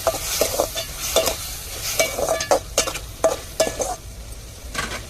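Prawns cooking in a covered pan for a Tamil home breakfast, heard as a steady low sizzle broken by repeated scraping stirs, close and fairly loud, with no talking.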